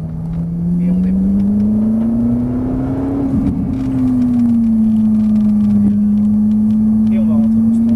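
A Ferrari 458 Italia pulls away at the Dreux circuit; a loud, close engine drone rises slightly in pitch, then settles into a steady, sustained tone.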